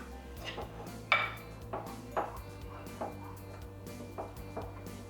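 A thick no-bake chocolate peanut butter brownie mixture being worked in a bowl, with a steady series of clinks and scrapes of a utensil against the dish, moderately close and without talk.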